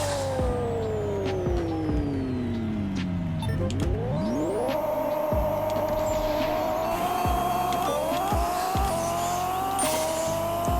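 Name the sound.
car drag race in video game Pixel Car Racer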